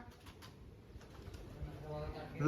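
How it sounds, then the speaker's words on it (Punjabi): Pigeons coo softly and repeatedly at a loft, a low murmuring call under steady background noise, fairly faint throughout. "ਲੈ ਪਹੁੰਚ ਗਏ ਬਈ ਕਬੂਤਰਾਂ ਵੱਲ"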